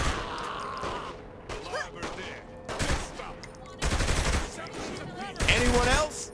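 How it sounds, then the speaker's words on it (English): Gunfire in the video game Saints Row: The Third: several loud bursts of rapid shots come in separate volleys, with short quieter gaps between them. "Shooting them probably doesn't help change their minds."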